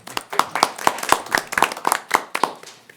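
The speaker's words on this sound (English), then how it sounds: "we should clap" A small group at a school board meeting claps, distinct individual hand claps in an uneven, sparse rhythm, close and fairly loud.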